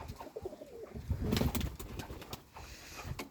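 Pigeons cooing nearby, low throaty coos rising and falling in overlapping bursts, with some rustling and faint chirps mixed in.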